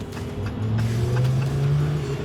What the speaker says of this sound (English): He's test driving that car.